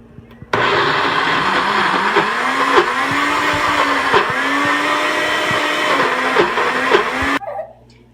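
A blender grinds lentils in one loud, continuous whir lasting several seconds, with the motor pitch wavering as it churns, then it cuts off abruptly.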